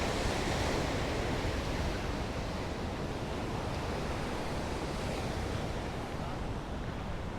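Ocean waves at Fan Shell Beach along 17 Mile Drive, a broad continuous surf roar with wind, steady and even for several seconds.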